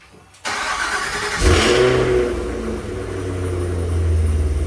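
A 2025 Cadillac Escalade V with a supercharged 682 hp V8 is remote started, cranking and catching sharply, flaring into a loud rev, then settling into a deep, steady warm idle close by.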